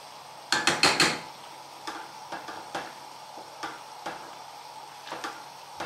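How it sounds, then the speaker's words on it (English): Pasta gets stirred in a cooking pot with a utensil, a quick cluster of clinks and taps on the pot followed by scattered lighter knocks, close and fairly quiet. "So I'll be cooking that pasta, giving it a stir."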